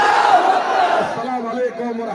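A crowd at a political rally answers a Takbir call with a loud collective chant, many voices rising together in a sustained roar that then fades into scattered shouting.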